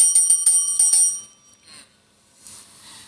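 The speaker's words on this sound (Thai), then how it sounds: "วันนี้มีกระดิ่งด้วย" A small hand bell, like a bicycle bell, rings in a quick series of bright, close metallic dings for about a second, then fades into quiet with a faint rustle after.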